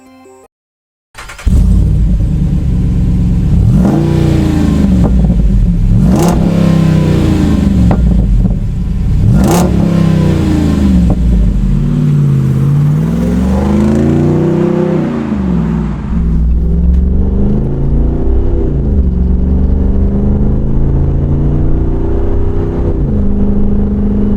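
A Jeep Wrangler 392 V8 with an aftermarket straight-through muffler, resonator and dual-exit exhaust revs loudly and close, rising and falling through several throttle blips before settling into a steady rumbling idle.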